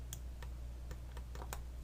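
Computer keyboard keys pressed during work in 3D graphics software: about eight faint, crisp clicks at uneven intervals over a steady low background hum, with no talking.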